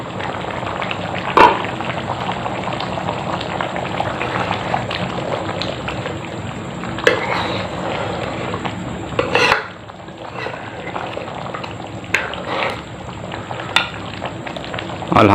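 Mutton paya, goat trotters, bubble and sizzle in a cooking pot, with a steady frying hiss broken by occasional stirring and utensil knocks close by.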